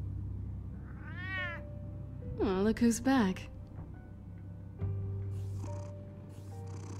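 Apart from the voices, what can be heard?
cat meowing and purring in Batman The Telltale Series video game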